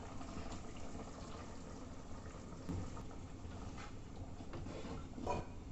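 Ground curry paste poured into a pot of cooking prawn curry, heard as a continuous wet, bubbling gush and sloshing that stays fairly steady throughout, close, with no talk.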